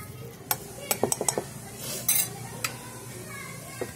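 Masala spices roasting in oil for Punjabi-style stuffed bitter gourd, stirred with a utensil: irregular metallic scrapes and clinks against the pan over a soft, steady sizzle.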